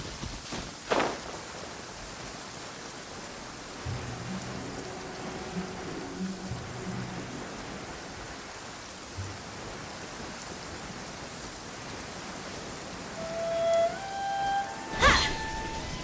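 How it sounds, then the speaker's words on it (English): Rain falls steadily in the video game Genshin Impact, a soft continuous patter with a few game sound effects and a brighter chime-like tone near the end. "It always rains when I go on an adventure."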